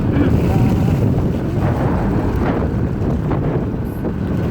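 Heavy rain and strong wind roar steadily, buffeting the microphone with a dense, loud rush throughout and no clear talk.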